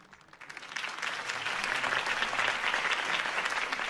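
A crowd at a political campaign rally in a Batman Telltale game breaks into applause, swelling quickly from quiet into a loud, sustained, distant-sounding roar of clapping.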